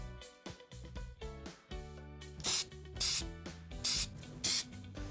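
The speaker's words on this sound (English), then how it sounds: "we're gonna be adding spray adhesive to our stencil to make it nice and secure." Spray adhesive is sprayed onto the back of a stencil in short, hissing bursts. The bursts sound fairly close and come in a broken rhythm, with music playing underneath.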